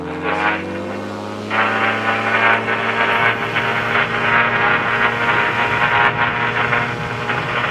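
A Buccaneer II light aircraft takes off from Craig airport. Its propeller engine gives a loud, rising drone that swells into a full roar under a broad rushing noise, and it stays strong and close to the end.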